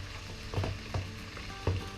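Chicken sizzles steadily as it sautés in a hot pan, with a few clinks and scrapes of a utensil stirring it.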